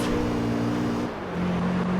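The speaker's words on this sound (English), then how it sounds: "of the car I'm hearing the original engine noise, and then from the other side of the car I'm hearing what this thing sounds like with a racing exhaust." Race car engine in Gran Turismo 3 with a racing exhaust, a steady droning hum with strong low harmonics that dips briefly mid-clip then resumes at a slightly different pitch, close and continuous.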